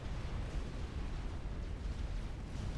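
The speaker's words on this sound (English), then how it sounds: "And there goes the next barrage of tactical missiles." A tactical missile barrage in Supreme Commander blends into a steady, dense low rumble of distant explosions, with no single blast standing out.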